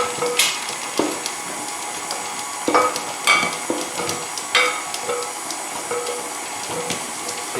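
Stand mixer working shortbread cookie dough while a loose glass bowl knocks and bangs irregularly against the machine, sharp clunks over a steady whirring hiss.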